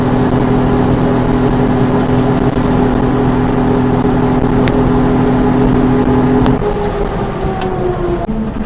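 A Suzuki-engined four-valve mini truck drones loud and close at high, sustained revs during a race, its pitch holding steady before easing down near the end.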